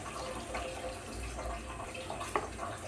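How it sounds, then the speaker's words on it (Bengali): Water pours steadily into a pot of lightly fried onions and river fish, a continuous splashing rush with a brief clatter near the end. "এখন দিয়ে দিব পানি"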